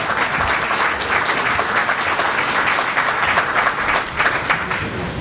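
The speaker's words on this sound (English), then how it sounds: "We can give a round of applause for that." A hall full of people at a prayer breakfast claps in a sustained, fairly loud round of applause, dense and continuous with slight swells toward the end.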